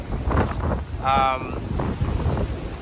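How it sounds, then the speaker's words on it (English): Strong wind buffets the microphone in a constant broadband rush, with a short tonal whine briefly cutting through midway. "it's super windy and it's supposed to continue into the night"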